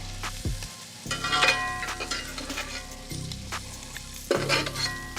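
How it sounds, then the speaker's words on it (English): A metal utensil stirs and scrapes across a HexClad skillet over sizzling crab and shrimp spinach dip, giving several distinct scraping strokes and clinks over a constant frying hiss, close and clear with no talk. "I know everybody probably cringing right now hearing the metal on top of the hex clad"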